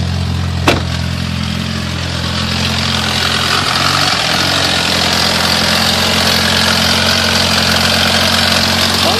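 A high-mileage Toyota car engine, about 218,000 miles, idles steadily and loudly up close, a constant low hum with one sharp click near the start and no talking.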